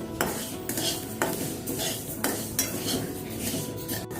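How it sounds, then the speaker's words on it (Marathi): Fenugreek seeds dry-roasted in a pan, stirred with a spatula in repeated close scraping strokes about once a second over a low rustling rattle, with no voices. "मेथी भाजून घेऊ"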